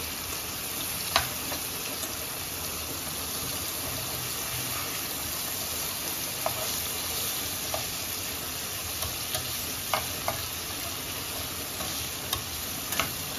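Green prawns frying in a pan with a steady soft sizzle, broken by a few sharp ticks and pops of spattering oil, heard close and continuous with no talking.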